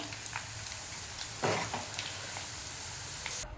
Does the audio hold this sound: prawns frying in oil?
yes